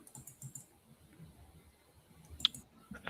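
Soft computer mouse clicks and keyboard taps in a quiet room while someone tries to share a screen, scattered small clicks with one sharper click near the end, faint and close.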